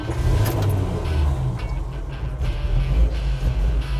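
A restored 1965 Chevy C10 pickup truck engine runs with a deep, throbbing low rumble, loud and close, its pulsing holding fairly steady with slight surges.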